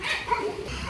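Several kennel dogs bark and yip in a noisy, continuous chorus, with a faint whimpering edge running through the short burst.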